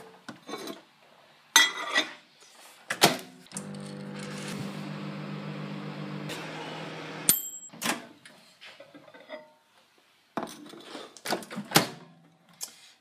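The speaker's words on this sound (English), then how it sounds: "I'm going to put it in the microwave now" Chocolate, milk chocolate and a flake, being put into a microwave: faint clicks and clunks of the door and handling, then a steady low hum of the running oven for a few seconds, followed by scattered knocks and beeps.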